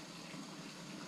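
Water splashes and hisses steadily across a hot Blackstone electric griddle during cleaning with a little soap, a continuous close wash sound with no talk.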